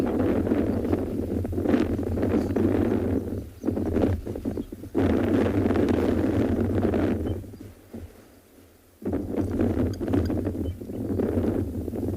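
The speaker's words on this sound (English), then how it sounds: "That wind is starting to pick up quite a bit." Wind gusting across an outdoor South African safari site, a loud broadband rush buffeting the microphone, sustained with a brief lull near the end before picking up again; no talking.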